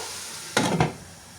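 Prawns sautéing in a pan for biryani give a steady background sizzle, broken by two quick stirring scrapes in close succession near the middle.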